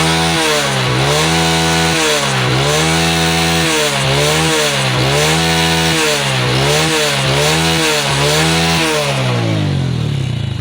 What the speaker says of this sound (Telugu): బీటింగ్ ఇస్తాను చూడండి ఒకసారి వెహికల్,